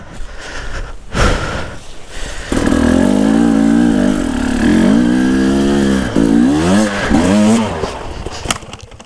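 An enduro motorcycle engine idles roughly, then revs hard and loud up close, its pitch climbing and dipping in repeated surging blips before dropping off near the end.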